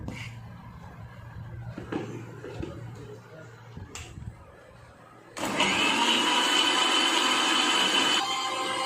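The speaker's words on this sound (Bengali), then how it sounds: "খুব সুন্দর করে মিক্সিতে ব্লেন্ড করে নেব" A mixer grinder blending mango milkshake made with ripe mango, milk and a little sugar kicks on after quiet background shuffling, then runs as a loud, steady whirring drone for about three seconds before cutting out.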